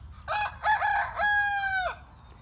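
A single rooster crows once, close and loud, in a long, clear, strained call that ends abruptly, with quiet ambient noise around it.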